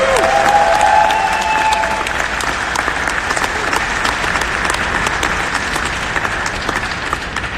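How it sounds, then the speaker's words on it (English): Audience applause at the Unhide Conference 2019 as a guest is welcomed on stage, a loud, dense wash of clapping that holds steady for several seconds with a few brief whistles near the start. "Big round of applause, please."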